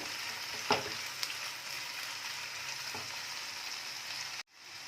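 Spices sizzle and get stirred in a pan of frying mutton keema, giving a steady, close hiss with a few scraping stir sounds before it cuts off abruptly near the end.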